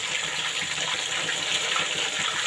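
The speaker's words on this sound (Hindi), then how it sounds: "ये पानी की आवाज़ आ रही है" Fish fillets frying in hot oil over a medium-low flame give off a steady, loud sizzle as water in the pan bubbles and spits, a constant hissing wash with no break.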